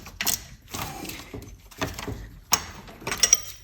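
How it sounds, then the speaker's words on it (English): A ratchet wrench tightens the belt tensioner bolt on a Nissan RB26DETT engine, producing a few separate bursts of quick metallic clicking with short gaps between strokes, close and moderately loud. "using a ratchet wrench, which is the only thing that's really gonna work, honestly, I'm gonna be tightening up this bolt that goes to the block"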